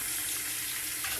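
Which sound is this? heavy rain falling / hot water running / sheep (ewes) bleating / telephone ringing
hot water running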